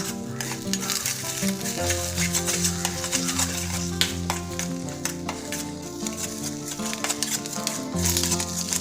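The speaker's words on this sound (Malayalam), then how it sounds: "നന്നായിട്ട് ഇളക്കി അതൊക്കെ ഒന്ന് സ്ക്രാമ്പിൾ ചെയ്തെടുക്കുക" Eggs and onions get stirred and scrambled in a frying pan: steady scraping and clinking of a utensil against the pan over a soft sizzle, continuous and close, with background music playing underneath.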